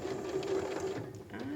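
A sewing machine stitches a fabric tube for an unlined drawstring bag, giving a fast, steady mechanical whir with rhythmic needle clatter that stays close and moderately loud for the whole short stretch.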